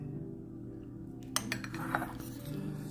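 A spoon scrapes and clinks against a dish while scooping layered herring salad in the Shuba style. A short cluster of light, close utensil taps follows a quiet start, with no talking.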